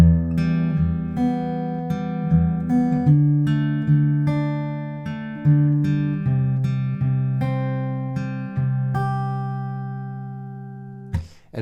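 An acoustic guitar is fingerpicked through the closing line of a song, with plucked notes ringing over each other in an even, unhurried rhythm, close and clear, with no voice.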